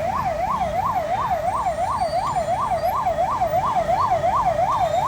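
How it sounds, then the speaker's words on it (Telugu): A loud wailing siren from an ambulance stuck in a traffic jam on the Mallapur road near NOMA Function Hall cycles rapidly up and down without pause, with a low rumble of engines and traffic beneath it. "అంబులెన్స్ ఆగిపోయింది అంబులెన్స్కి కూడా దారి లేదు"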